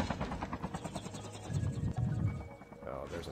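A helicopter in the COD Mobile battle royale game thuds with a continuous rotor chop through the whole stretch, fairly loud and steady, with scattered game noise mixed in.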